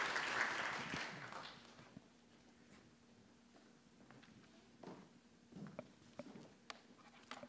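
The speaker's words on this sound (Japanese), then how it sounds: "今一度拍手をお願いします。" Applause from fans at a Roasso Kumamoto football club fan appreciation day rises briefly at the start and then fades, leaving scattered claps and small handling sounds in a quiet hall.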